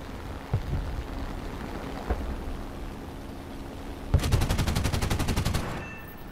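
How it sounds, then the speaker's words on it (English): Aircraft machine guns firing in War Thunder, a few isolated shots early on, then a rapid, loud, evenly spaced burst lasting nearly two seconds, with no voices. "That was machine guns only."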